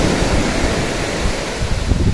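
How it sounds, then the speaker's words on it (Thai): Waves wash onto the beach at Wat Tha Sai, a seaside temple in Thai Mueang, Phang Nga, a continuous surf roar with wind buffeting the microphone. "นี้คือบรรยากาศ ชายหาดที่วัดไทรงามนะครับ"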